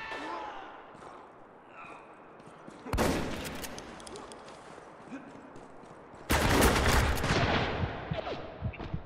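Machine gun fire in the multiplayer shooter Spec Ops: The Line, two loud bursts of sustained automatic fire several seconds apart, standing out over quieter background game sound.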